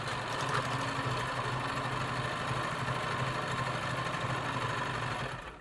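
A sewing machine runs steadily, stitching a fabric mask with a continuous whirring hum and mechanical buzz that stays loud and close, then stops just before the end.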